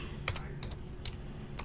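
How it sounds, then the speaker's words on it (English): Soft, sparse key clicks from a computer keyboard typed with one hand, a few separate taps spaced unevenly over a low room hum, close and fairly quiet. "So weird typing with one hand"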